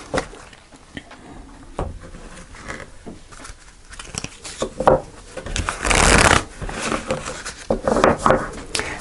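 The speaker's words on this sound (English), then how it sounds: "Just going to shuffle one more time." A deck of tarot cards is shuffled by hand at close range, the riffling and sliding rustles coming in uneven bursts that build to a dense flurry midway, with no voice over it.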